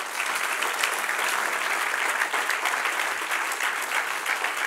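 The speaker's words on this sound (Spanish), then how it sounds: "denle un aplauso" Church congregation applauding during a pastor's sermon, a dense, even wash of many hands clapping that holds steady throughout without pause.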